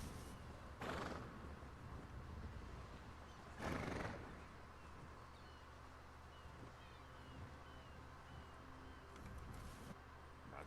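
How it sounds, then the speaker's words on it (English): A horse in The Elder Scrolls Online gives two short, faint whinnies a few seconds apart, set against a quiet ambient background. "Nice horse."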